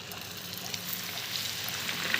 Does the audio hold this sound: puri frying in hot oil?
yes